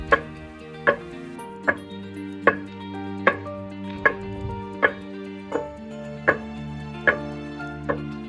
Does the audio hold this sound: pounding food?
yes